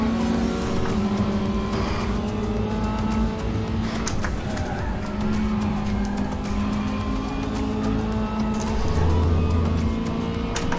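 Audi and Praga race cars circling the Zolder circuit in the RaceRoom sim, engines droning steadily and loud throughout with occasional tire squeal, a dense, continuous racing roar.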